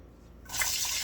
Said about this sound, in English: So I'm going to pour my onions in.